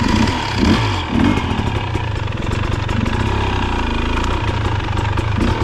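A 2023 KTM 300 XC TBI dirt bike engine lugs steadily at low revs, a loud, close, continuous two-stroke chug with slight swells in throttle and no talking.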